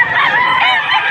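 A gamecock offered at a rooster sale in Padre Garcia, Batangas, lets out one loud, continuous, strained crow close by, with no talk over it, before it cuts off sharply.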